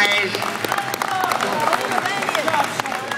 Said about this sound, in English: Guys, give these kids a round of applause